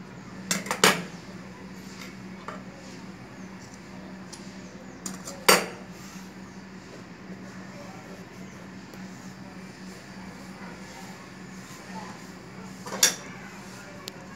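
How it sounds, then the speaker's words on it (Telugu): Scissors snip through dress cloth during stitching, a few crisp, isolated cuts separated by long quiet gaps in a calm room. "ఇప్పుడు ఈ వారిన కొంచెం కట్ చేద్దాం."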